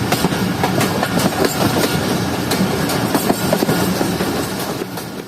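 The Hazara Express passenger train in Pakistan rolls steadily along the rails, a continuous loud rumble with rhythmic clatter and clanks from the wheels, close by and without voices.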